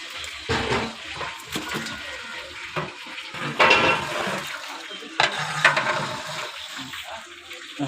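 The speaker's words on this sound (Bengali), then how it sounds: "এখন আমরা হালকা করে নেড়ে চেড়ে মশলাটা রোস্টের সাথে মিশিয়ে দেবো।" Fried chicken roast pieces stirred into a pan of cooked spice masala, giving wet, sizzling scrapes and clinks of a utensil against the pan in irregular strokes, close and fairly loud.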